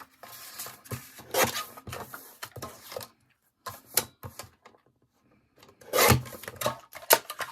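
A small paper trimmer makes repeated scraping and slicing strokes in irregular bursts, close and fairly loud, with brief quiet gaps between cuts.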